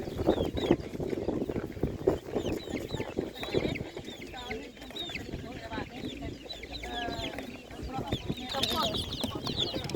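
Chicks and young roosters clucking and cheeping at a Ukrainian animal market, a busy mix of close clucks and high peeps under nearby people talking.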